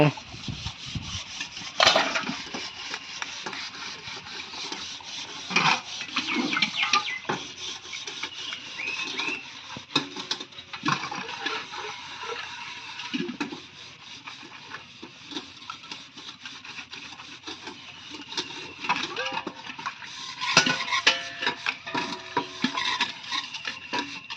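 Cooking vessels being washed and scrubbed by hand, steady rubbing and scouring strokes with occasional clanks, close and continuous; a voice speaks now and then.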